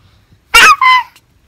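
A voice imitates a dog barking with two quick, loud woof-like yelps close to the listener, surrounded by quiet.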